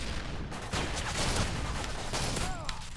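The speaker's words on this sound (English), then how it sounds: "I hate the Spaz 12 so much. It's so inconsistent in the shots you'll hit." Spaz-12 shotgun fire in Modern Warfare 3 gameplay, a dense run of loud blasts and clattering impacts over a busy game mix, with faint voices and tonal effects near the end.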